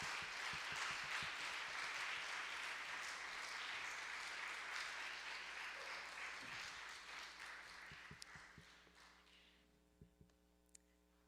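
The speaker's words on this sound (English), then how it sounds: "Can we clap our hands?" Audience clapping at an evening church symposium as a guest speaker is introduced, a sustained round of applause over a room hum that thins out into a few scattered final claps.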